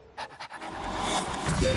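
A spaniel pants loudly and close by, starting with a few separate breaths and then settling into steady, rapid huffing that continues to the end.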